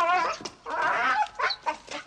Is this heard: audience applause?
no